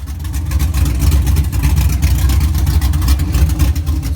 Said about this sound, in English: as you hear, it's a nice chop that he has